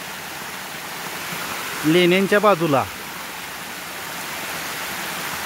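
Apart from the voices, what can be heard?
small monsoon waterfalls flowing near Agashiv caves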